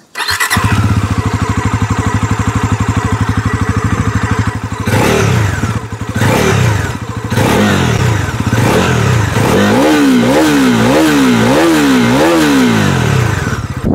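A Bajaj Pulsar NS400Z motorcycle starts in neutral and settles into a loud, raw idle close by, its exhaust note rumbling, then blipping up and down in several rhythmic revs toward the end, with no talking.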